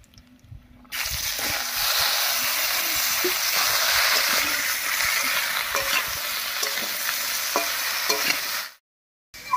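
Chopped bottle gourd goes into hot oil tempered with whole cumin and bay leaf, setting off a loud, steady frying sizzle with stirring clatter. It lasts about eight seconds, then cuts off abruptly.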